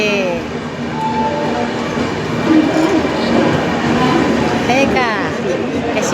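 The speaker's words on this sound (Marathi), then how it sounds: "म्हणून मी मुद्दाम रेल्वे पाहासाठी तिकडं आलेली" A train rumbles past nearby with steady wheel clatter and a brief squeal, while people talk over the noise.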